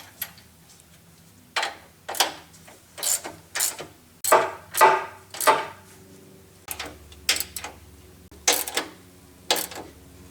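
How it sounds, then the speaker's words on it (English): Metal ratchet and wrench clicks from tightening lock nuts and gib bolts on a Yates American B244 bandsaw frame, coming in short close bursts of ticking with pauses between them over a low background hum. "And then lock down these lock nuts. Also tighten these gib bolts."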